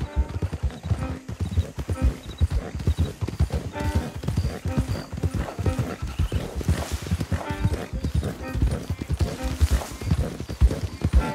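Horses' hooves clop steadily in a trotting rhythm in Red Dead Redemption 2, close and prominent, with a brief neigh and some quiet game dialogue mixed in.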